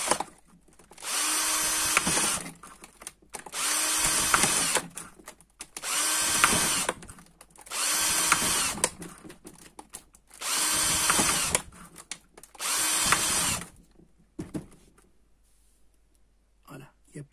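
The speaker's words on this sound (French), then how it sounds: "je prends ma petite perceuse, petite mèche et des petits trous." Small electric drill with a small bit boring holes in a plant pot, six loud whining bursts of about two seconds each separated by short pauses, close up.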